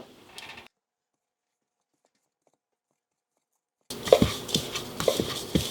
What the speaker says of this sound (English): So I'm going to begin cutting the butter in now.